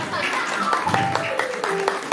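Scattered hand claps ring out as sharp, separate slaps amid lively talking voices, with a few quick bursts across the moment.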